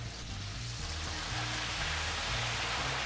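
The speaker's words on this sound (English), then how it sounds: "now as this fries and the moisture evaporates off" A puree is drizzled into a very hot deep fryer of oil, producing a dense, steady crackling sizzle that fills the whole stretch without pause.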